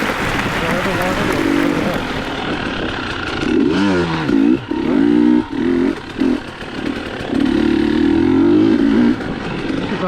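A KTM 300 dual sport motorcycle engine drones loudly and steadily on a trail ride, its pitch rising and falling with throttle blips and revs through the middle of the stretch.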